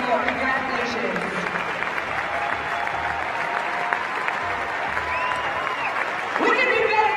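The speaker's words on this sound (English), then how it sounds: "Big round of applause to you guys." Sustained crowd applause for CrossFit Games medalists at an awards ceremony, dense steady clapping from a large audience that swells louder near the end.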